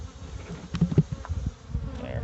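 Bees buzz around a beehive, a close, steady insect drone that swells and fades with several louder passes near the middle, and no talking.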